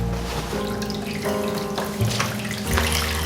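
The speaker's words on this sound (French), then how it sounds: "Je vais tout passer déjà dans la baignoire avec de l'eau très chaude et du percarbonate" Very hot water pours steadily from a tap into a bathtub, a continuous close splashing rush with small shifts in flow.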